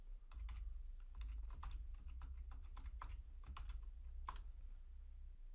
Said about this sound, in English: So I'll go ahead and type 1, 2, 3, 4, 5